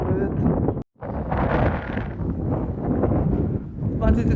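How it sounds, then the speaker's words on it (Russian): Strong, cold wind on a seashore buffeting the microphone in loud, rough, continuous rumbling gusts, broken once by a brief dropout, with a voice talking beneath the roar. "ветер достаточно сильный, мне кажется, он мешает записывать"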